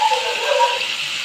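Water pours steadily into a pan of cauliflower, potato and tomato curry, a continuous close splashing gush with no talk.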